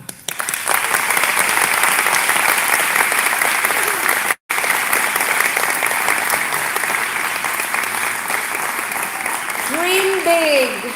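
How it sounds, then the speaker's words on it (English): An audience at a St George's College school event gives sustained, loud applause that is dense and steady for about ten seconds, with a brief cut partway through and faint voices near the end. "big clap"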